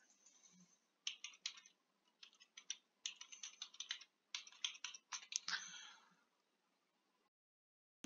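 Member account details typed on a computer keyboard, heard as irregular bursts of fast, close keystroke clicks with short pauses between runs, ending in a quieter stretch.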